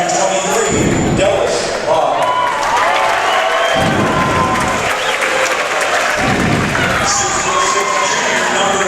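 A crowd at a varsity high school boys basketball game between Woodcreek and Roseville claps steadily and loudly, with cheers, scattered shouts and ball bounces mixed into the sustained applause.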